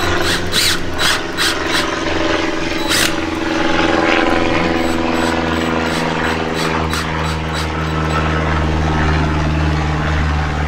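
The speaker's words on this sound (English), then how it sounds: "Freaking airplanes, bro." A propeller airplane flying overhead of a backyard pond construction site, a steady loud droning engine roar lasting throughout, with a few sharp clicks and knocks near the start.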